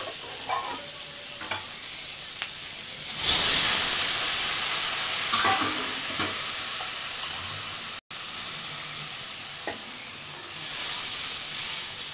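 Hot water poured into a simmering hilsa fish curry: a sudden loud rush of hiss and steam, then settling into a steady, quieter bubbling sizzle with occasional stirring.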